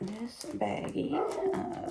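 A dog barks and growls in the background while a person talks over it.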